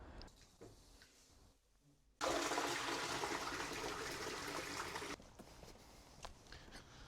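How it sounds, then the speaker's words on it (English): A toilet is flushed with drain dye added, during a rat pest-control check of the sewer pipes. After a quiet stretch, a loud, close rush of water starts suddenly, lasts about three seconds, then cuts down to faint trickling. "We flushed the toilet and this should turn green"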